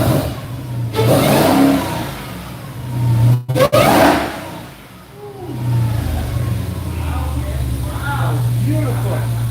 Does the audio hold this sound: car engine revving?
yes